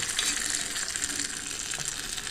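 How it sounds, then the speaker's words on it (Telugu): Spices for a fresh coconut chutney tempering sizzle in hot oil, a bright, dense, even hiss with faint crackles throughout, heard up close and alone. "అన్నీ వేసి పోపు వేస్తున్నాను."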